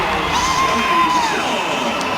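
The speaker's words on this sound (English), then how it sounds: "You can hear the reaction from the crowd." Crowd at the 2014 WNBA All-Star basketball game cheering and whooping in a steady, loud arena roar that holds for a couple of seconds.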